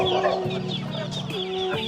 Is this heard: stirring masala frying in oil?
no